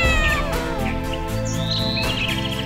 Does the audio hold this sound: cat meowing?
yes